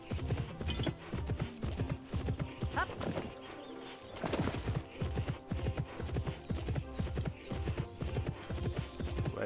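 Horse hooves in the video game Pippa Funnell Ranch Rescue, a steady, rhythmic clip-clop of a horse moving at pace. The hoofbeats stay close and loud throughout, with a brief whinny-like rise near the middle.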